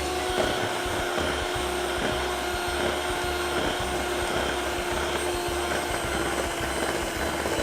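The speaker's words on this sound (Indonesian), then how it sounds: "Kita naikkan kecepatan mixer, dilanjutkan mengocok sampai pucat banget ya" Electric mixer beating sago cheese cookie dough, a loud steady whirring drone with a faint rhythmic churn, running close and continuous with no voices.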